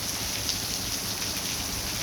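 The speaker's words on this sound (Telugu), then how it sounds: "చూడండి వర్షం ఏం పడుతుందో, నీళ్ళు చూడండి ఎలా వెళ్తున్నాయో" Heavy rain falls steadily in Jahra, a soft, even hiss of water with no voices, fairly faint and constant.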